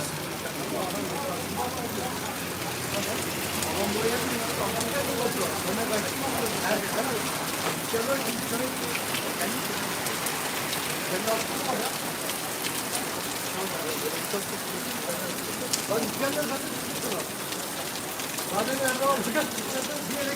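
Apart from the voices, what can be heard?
heavy noisy summer rain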